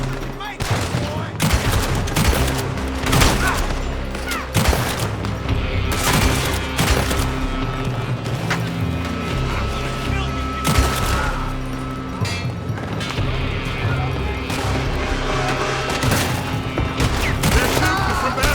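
Heavy gunfire pours from a building during a Red Dead Redemption shootout, dense overlapping shots and booms running continuously at close range with scattered shouting mixed in.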